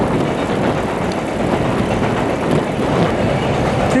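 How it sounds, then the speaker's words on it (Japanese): A long freight train rumbles across a JR railway bridge in Hiroshima, a steady loud clatter of wheels and cars rolling continuously with no talk. "JR の鉄橋、貨物列車通ってます。"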